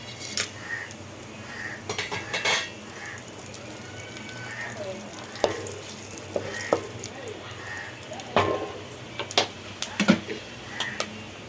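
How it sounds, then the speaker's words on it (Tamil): Fennel seeds, cinnamon and cloves fry in hot oil for a Sunday mutton curry, with soft sizzling under scattered metallic clinks and scrapes of a utensil against the pan while a person talks nearby. "அதுக்கு தேவையான பட்டை லவங்கம் இதெல்லாம் அது போடுறோம் சோம்பு பொறிஞ்சிருச்சு"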